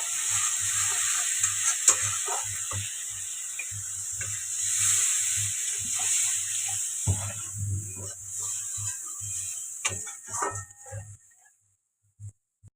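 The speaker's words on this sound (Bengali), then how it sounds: "তো দেখো ঝোলটা ফুটছে" Fish curry with aubergine cooking in a pan, a soft hiss with repeated low scraping stirs in an uneven rhythm, fading out toward the end.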